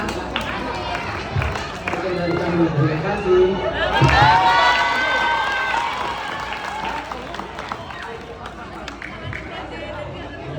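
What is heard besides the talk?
students applauding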